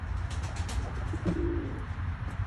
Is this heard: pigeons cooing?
yes